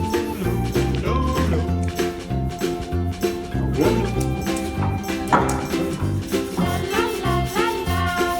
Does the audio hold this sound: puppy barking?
yes